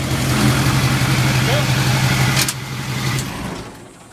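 Pickup truck engine running and idling steadily just after the key is turned, a loud, close rumble that fades toward the end, with someone talking over it.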